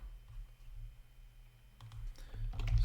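Typing on a computer keyboard, faint and close, with scattered soft clicks that cluster into a quicker burst of keystrokes near the end.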